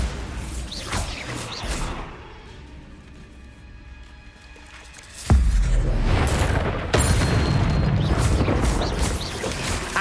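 A Bombarda spell explosion in the Hogwarts Legacy video game lands as a sudden heavy boom midway through. It follows quieter whooshing magic effects and gives way to sustained loud rumbling and crashes.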